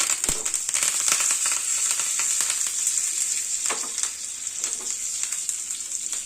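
Vadagam and curry leaves crackle and sizzle in hot oil for a South Indian tempering, a steady dense frying hiss with sharp pops throughout, close and loud with no talking.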